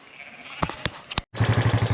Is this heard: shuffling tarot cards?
no